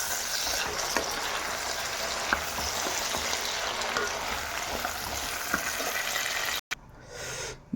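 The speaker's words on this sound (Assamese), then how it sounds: "এতিয়া ভালকৈ লাৰি আকৌ ঢাকি দিম মই।" Chicken curry with tomato sizzles steadily in a pan while being stirred, with occasional soft utensil taps over the continuous close frying hiss.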